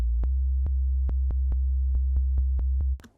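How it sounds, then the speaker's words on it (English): A pure sine wave from a synth, pitched down two octaves into a deep sub-bass drone, holds steady while short clicking pulses tick over it before it cuts off near the end. "now it's basically a sub"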